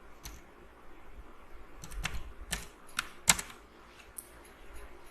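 Typing on a computer keyboard, a scattering of sharp clicky keystrokes in irregular bursts, fairly close and quiet, with no talking.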